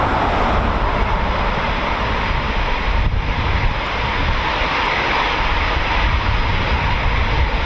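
A Eurofighter Typhoon FGR4 at RAF Coningsby with its EJ200 engines on reheat, giving a loud, continuous, broadband jet roar that stays steady throughout, with no voices.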